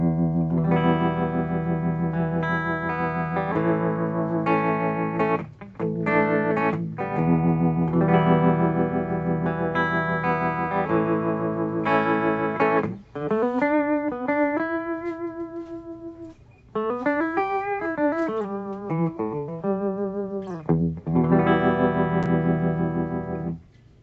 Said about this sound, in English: I use it most as a very subtle vibe effect